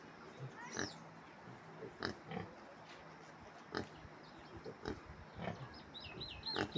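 Pigs in a village grunt in short, repeated bursts, faint and somewhat distant, with scattered quiet voices and ambient outdoor noise in between.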